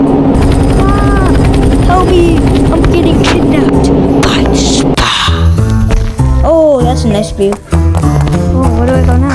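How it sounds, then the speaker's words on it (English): A video game helicopter drones with a loud, steady rotor whir, then gives way to busier game effects and tonal sounds, with a voice talking over it. "Oh, helicopter."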